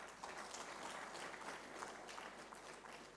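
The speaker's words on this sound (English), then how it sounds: "I think they deserve some applause" Conference audience of researchers and colleagues applauding, a fairly faint but continuous patter of many hands clapping at once, even in level from start to finish.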